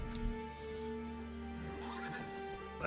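A horse whinnies in The Witcher video game, a faint, drawn-out neigh over a steady droning music bed with tonal hums, with soft hoof clops near the end.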